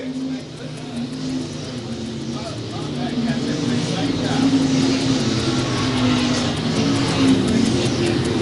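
USRA B-Mod stock cars racing at I-35 Speedway, a loud, continuous roar of engines droning around the track and swelling toward the end, with an announcer talking over the noise.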